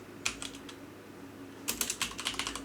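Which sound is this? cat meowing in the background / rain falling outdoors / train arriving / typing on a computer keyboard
typing on a computer keyboard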